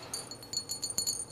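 An object shaken side to side inside a glass gives a run of light, rapid clinks, about a dozen quick taps ending in one sharper, louder knock, heard alone without talk.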